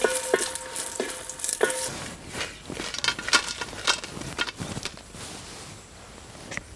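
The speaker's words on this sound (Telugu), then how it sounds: "ముందుగా ఒక చెంచా నూనె వేసుకుని ఎండి మిరపకాయలు వేయించుకుని ప్లేట్లో తీసుకుందాం" Dried red chillies fry in a spoonful of oil in a pan for vankaya ulli karam, giving a close, crackling sizzle with scattered pops and stirring scrapes that continue steadily throughout.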